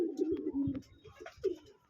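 Pigeons coo softly and repeatedly inside a pigeon loft, close by, with low throaty calls rising and falling.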